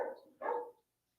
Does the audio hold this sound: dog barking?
yes